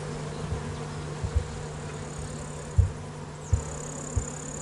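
Honey bees of Frère Adam's gentle, disease-resistant bred strain buzz in a low, steady hum in the Drôme, broken by a few soft knocks and thuds, with no voices.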